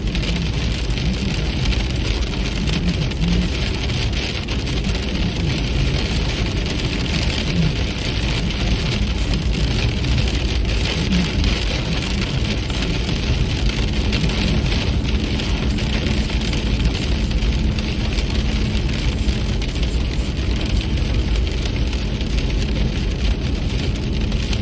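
Cold rain at about 37 degrees falling steadily outside, a dense even hiss of drops on surfaces lasting throughout with no break and no talk.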